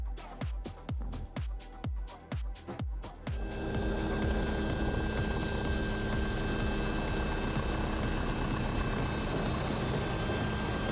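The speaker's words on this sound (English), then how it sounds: "Landing a helicopter on a moving ship isn't easy." A helicopter lands on the deck of a moving ship. Its rotor beats thump rapidly at first, then give way to a loud, steady engine and wind roar.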